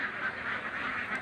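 Laying ducks crowd a pen on an egg-duck farm, a dense, steady chorus of overlapping honking quacks at moderate loudness.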